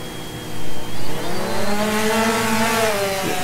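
A DJI Phantom drone fitted with landing gear skids spins up and lifts off, its rotors rising into a loud, close, rising whine with two quick surges before a steady climbing hum.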